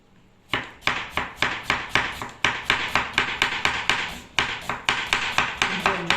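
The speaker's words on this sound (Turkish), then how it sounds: "bir tutam da maydanozu doğrayacağız" Parsley being chopped with a knife on a board: a quick, steady run of sharp chops with brief pauses between bursts, close and clear with no talking.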